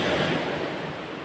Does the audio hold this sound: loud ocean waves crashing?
yes